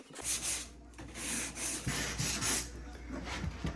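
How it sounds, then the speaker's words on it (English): Steady rubbing and scraping of sandpaper over wooden stair skirting joints while the glue is still wet, continuous strokes at close range with a faint low hum underneath. "sanding the joints while the glue is wet to get a nice finish"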